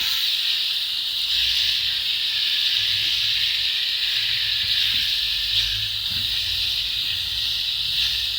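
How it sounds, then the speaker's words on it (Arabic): Alexandrian-style liver sears in a very hot pan, a steady, loud hiss of sizzling and steam running unbroken throughout with faint low clatter beneath. "الطاسه سخنه جدا، شايفين البخار طالع معانا اهو"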